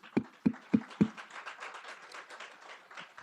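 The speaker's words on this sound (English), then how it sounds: "I do want to applaud you." A few sharp hand claps, four evenly spaced near the start, then a softer ragged patter of applause from a small audience at a welcome session of a regional summit, fading out.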